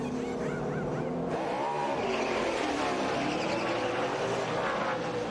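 NASCAR stock cars racing in the 2006 Brickyard 400, including the Army Chevrolet, roar loudly and continuously, with a Doppler sweep as a car passes close by partway through.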